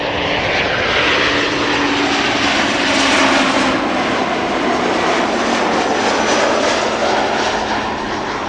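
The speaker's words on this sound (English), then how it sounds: "And another Embraer 190 coming in over here. KLM arriving from London City." A KLM Embraer 190 airliner arrives at Amsterdam Schiphol, its jet engines giving a steady, loud, broadband roar that holds through the whole stretch with no voices.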